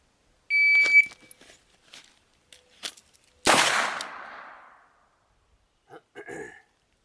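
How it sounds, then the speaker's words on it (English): A shot timer beeps, faint rustling follows as a handgun is drawn from a holster from a standing position, then a single loud, sharp gunshot cracks and rings out before brief small handling noises. "Let's take a look at me just drawing the gun from a standing position"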